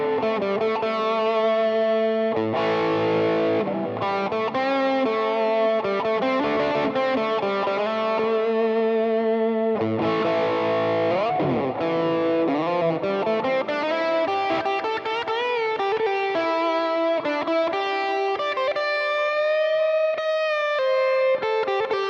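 A blues lead line on electric guitar runs through an S-Gear amp simulator with reverb and delay. The distorted notes bend and sustain for over twenty seconds, loud and alone, with no talking.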